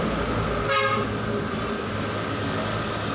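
A Yamaha Jupiter MX motorcycle horn being tested after repair gives one short, sharp toot near the start, close and loud over a constant background hum.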